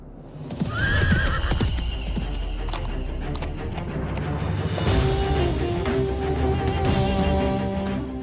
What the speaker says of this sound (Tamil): அஸ்வமேத யாகத்தின் இந்த குதிரையை வெற்றி திலகமிட்டு உலகை வலம் வர